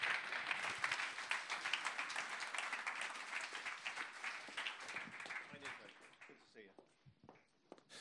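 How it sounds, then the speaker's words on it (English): Audience applause at a green technology conference in London, a dense burst of clapping that gradually thins and fades toward the end, with scattered voices and footsteps underneath. "Please, give them a big round of applause"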